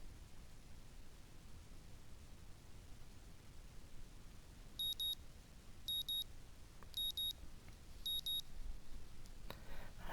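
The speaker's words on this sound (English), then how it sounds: "I wake to the annoying din of my alarm clock." Alarm clock beeping in the visual novel Katawa Shoujo: four short, evenly spaced pairs of high electronic beeps over a steady hiss, with no voices.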